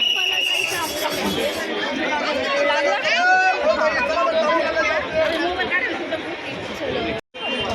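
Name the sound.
chatter of a big crowd in a queue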